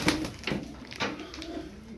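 Tumbler pigeons give a few soft, low coos close by in a quiet loft, three short murmuring calls in quick succession with no speech over them.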